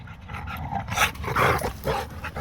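Dogs playing roughly at a dog park, with close panting, scuffling and short growly huffs over a steady outdoor background, no speech.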